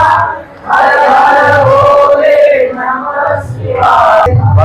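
A dense crowd mills at a temple fair, the Mhasa jatra, with many voices blending into a loud, continuous murmur close by, swelling and dipping slightly over a few seconds.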